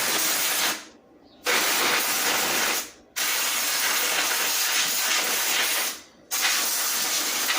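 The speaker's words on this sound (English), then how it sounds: "So I'm actually going to take some of my carburetor cleaner and just" Carburetor cleaner sprays onto a small-engine air filter in four long, loud, close hissing bursts separated by brief silent pauses.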